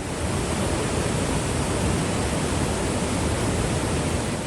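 Floodwater of the Manjira river in Medak district, Telangana, surges past a submerged temple as a loud, unbroken, full roar with no pauses.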